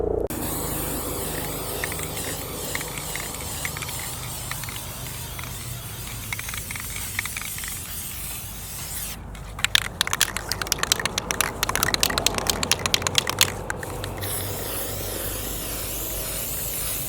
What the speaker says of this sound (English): just kind of spray paint it with something, a rust protectant